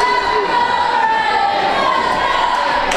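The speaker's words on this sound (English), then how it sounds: "The crowd really getting into this." Steady crowd noise at a wrestling show, a continuous roar of cheering and chatter from a large audience, loud and even throughout, with no single voice standing out.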